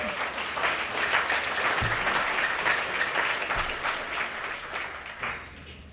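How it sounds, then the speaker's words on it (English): Audience applause at a realtors' awards ceremony, sustained dense clapping from a large crowd lasting several seconds, steady and moderately loud, heard without speech. "Give yourself a round of applause."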